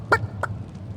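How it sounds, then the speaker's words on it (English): Rooster in the video game Divinity: Original Sin, two short, squawking fowl calls about a third of a second apart, close and clear over a low background hum. "Don't let that rooster escape!"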